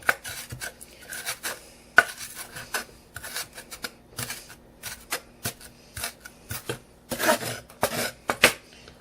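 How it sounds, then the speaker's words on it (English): A knife chops green onion on a cutting board in a series of sharp, close taps, some quick and clustered, others spaced apart, with no talking. "So get all of this green onion chopped here good."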